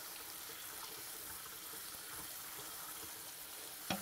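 Tap water runs steadily into a sink as beans are rinsed for broccoli cheese soup, producing a constant hiss and splatter at moderate level with no talking.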